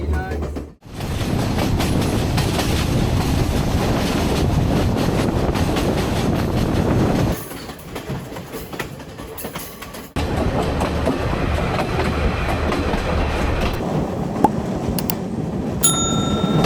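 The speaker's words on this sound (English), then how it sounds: "Sitting there as the train winds through stunning scenery" Sri Lankan passenger train winding through hill-country scenery, a steady heavy rumble of wheels on rails with clickety-clack rhythm, a brief drop as it passes something, then faint dings and metallic clangs near the end.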